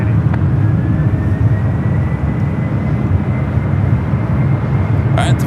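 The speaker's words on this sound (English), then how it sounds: "the flight to Houston is 767 at 300 ER now, rolling down to 28 right" A Boeing 767-300ER jet rolling down runway 28 Right at San Francisco airport gives a loud, steady engine roar that holds at an even level throughout, with a brief faint sound near the end.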